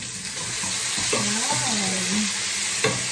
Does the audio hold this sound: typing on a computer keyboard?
no